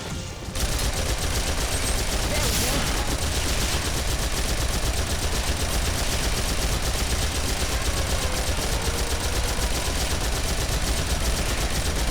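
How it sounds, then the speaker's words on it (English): Sustained, loud machine gun fire in the video game Phantasy Star Online 2, a dense continuous burst of rapid shots running nearly the whole stretch with no pauses and no voices. "unloading a full clip of machine gun ammo into something"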